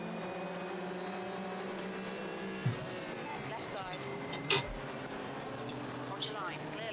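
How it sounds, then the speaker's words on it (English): Race car braking hard into Paddock Hill Bend at Brands Hatch, engine note dropping with downshift blips amid continuous track noise, while a voice talks over it. "It's braking a bit hard coming in Paddock Hill Bend."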